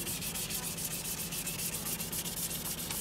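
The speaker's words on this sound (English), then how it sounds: "Very important, the sanding." A car headlight being hand sanded during restoration, a steady close rhythmic rasping stroke repeating evenly back and forth without pause.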